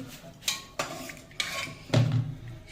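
A spoon clinks and scrapes inside a pot of boiled chickpeas in four distinct knocks, close by and moderately loud, the last one a heavier scrape. Nobody speaks.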